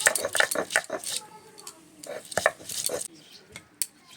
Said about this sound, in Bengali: প্রথমে আমি আদা বেটে নিচ্ছি। আদাটা কিন্তু আমি একদম মিহি করে বেটে নেব।